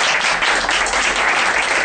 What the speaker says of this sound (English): we should give him a lot of applause.